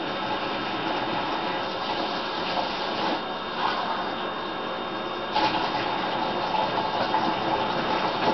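Tepid water runs from a tap into a cup, a steady close gushing rush lasting the whole stretch without talk.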